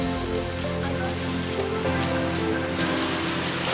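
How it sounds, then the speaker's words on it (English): Steady rain falls outside Singapore's Botanic Gardens, a dense, even hiss of drops pattering on surfaces that stays constant and fairly loud throughout, with no voices. "We're going to just hold off a couple more minutes, see if the rain eases."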